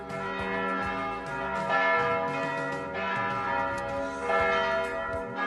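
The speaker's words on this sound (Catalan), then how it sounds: "D'on sonen aquestes campanes?" Church bells ring out on the eve of the Sant Pere festival in overlapping peals, rich sustained tones swelling in waves, fairly close and loud with no voices.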